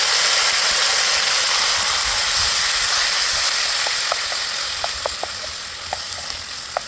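Onion and tomato fry in hot oil with a loud, continuous hiss and sizzle close by, easing slightly as sharp ticks and light taps from stirring come through near the end.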